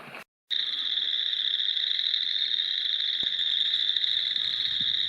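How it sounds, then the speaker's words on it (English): Frogs near a pond at an off-grid log cabin keep up a dense, continuous high trilling chorus after a brief silent gap at the start, with faint scattered background noises beneath. "I'm going to leave you with 5 minutes of the frogs and everything else out here"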